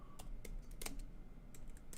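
Quiet typing on a computer keyboard, a few scattered key clicks over a soft steady background hum, with no talking.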